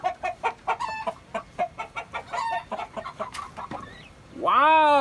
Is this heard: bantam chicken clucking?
yes